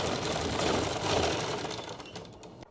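A sewing machine stitches seams on suit fabric, its needle running in a steady, rapid mechanical chatter at close range for a few seconds before slowing slightly.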